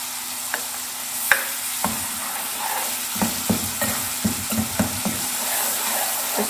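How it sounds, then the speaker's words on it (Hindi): Spice masala fries in a pan for Punjabi-style rajma while a spoon stirs it, with a soft background sizzle punctuated by a series of close, distinct scraping and knocking strokes, irregularly spaced and getting more frequent toward the end. "इसमें यहाँ पे जब ये भून रहा है मसाला"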